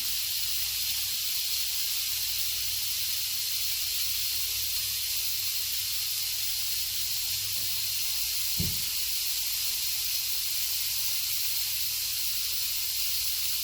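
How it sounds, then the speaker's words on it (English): Stuffed bitter gourd sizzles in a heated pan, giving a steady, soft hiss throughout with one brief sharp knock partway through. "So when the pan gets heated up, it starts sizzling. Let it sizzle for some time."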